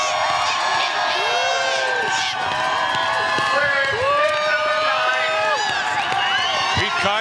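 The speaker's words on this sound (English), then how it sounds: "And listen to this crowd." Spectators at the finish chute on Front Street in Nome, Alaska roar and whistle for the 2019 Iditarod champion's arrival, a sustained wall of cheering laced with high whoops throughout.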